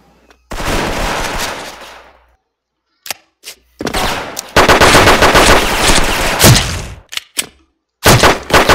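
Rapid automatic rifle fire in a video game cracks out in several loud bursts, separated by short gaps and a few single shots.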